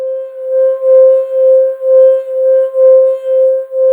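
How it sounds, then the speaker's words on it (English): Sample of a glass full of water giving a sustained, pure ringing tone with faint overtones, pulsing gently in a steady rhythm of soft swells, close and clear with no other sounds. "a sample I recorded of a glass full of water that sounds like this"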